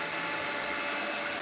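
A hair dryer blows on ink artwork, giving a loud, steady, close-up airy roar with no break and no talk.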